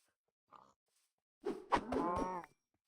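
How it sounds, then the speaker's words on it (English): Cows moo in a modded survival video game: a short faint call, then a louder drawn-out moo heard alone in quiet surroundings. "Cows."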